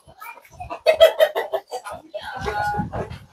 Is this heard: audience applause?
no